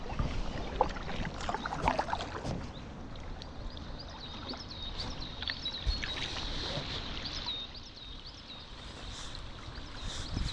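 Paddle strokes and water splashing around a packraft on the Aare river, a busy close wash of splashes and drips over steady flowing water, with no talk.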